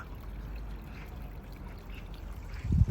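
Water runs steadily in Namsan Park in Seoul, South Korea, as a soft continuous rushing and trickling wash heard from a short distance, with a brief low rumble at the very end.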